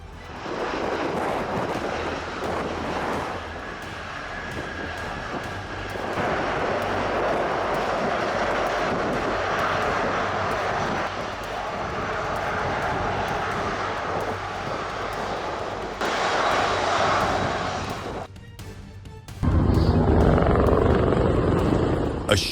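Roaring jet airliner engines during a hard, bouncing landing at Birmingham airport, a loud continuous broadband rumble that swells and shifts partway through, then cuts out and returns heavier near the end, with no voices.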